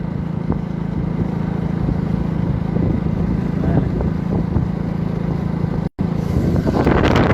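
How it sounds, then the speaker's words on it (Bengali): A power tiller's small engine chugs steadily and loudly nearby as it plows a field for rice, a constant mechanical drone. "পাওয়ার টিলার দিয়ে হাল চাষ করা হচ্ছে।"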